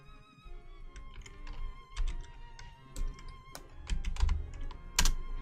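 Rapid computer keyboard typing with uneven clusters of sharp key taps and a few louder strokes, close and clear over faint background music while working on pixel art in a game-making program.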